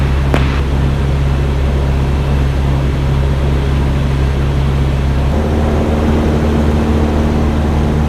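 A Cessna light aircraft engine drones loud and steady in flight on a landing approach, a constant close rumble heard from the cockpit, shifting slightly in tone partway through.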